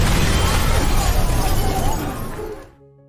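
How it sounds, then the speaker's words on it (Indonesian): A loud, chaotic crash of colliding vehicles setting off an explosion, with shattering debris and a rumbling blast, sustained for a few seconds before cutting off abruptly. "kendaraan saling bertabrakan hingga memicu sebuah ledakan"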